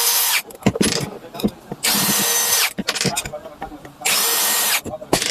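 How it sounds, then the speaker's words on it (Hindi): Angle grinder gearbox screws being removed with a power screwdriver or drill, in several loud bursts of whirring separated by short pauses and small handling clicks. "अब हम लोग सीधा इसका गियर बॉक्स का चारों स्क्रू को खोल लेते"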